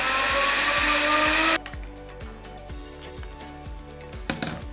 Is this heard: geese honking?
no